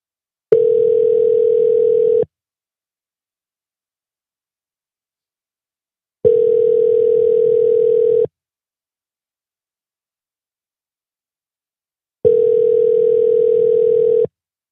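Outgoing telephone ringback tone, three identical long steady tones of about two seconds each, separated by silent gaps of roughly four seconds, clear and loud with no talking.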